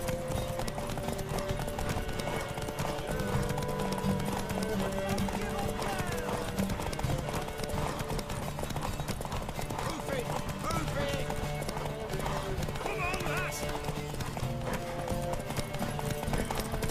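A horse trots with steady clip-clop hooves in The Witcher 3, mixed under game voices, music and ambience throughout.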